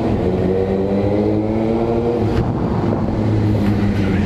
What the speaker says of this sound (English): hear that popping sound it has?